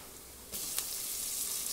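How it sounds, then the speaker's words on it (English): Chopped onion with a pinch of salt frying and sizzling in a pan for prawn biryani, a steady close hiss that grows louder partway through, with a faint clink of stirring. "add 1 onion, little bit of salt, let it turn golden brown. Until then mix it well."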